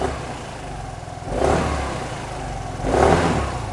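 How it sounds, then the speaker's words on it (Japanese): A KYMCO Racing S125 scooter engine, a used 125cc bike, idles nearby and is blipped twice, each rev rising quickly and falling back to a steady idle, with no talking. "そうレーシングのエンジンですね、非常に吹き上がり軽いですね。"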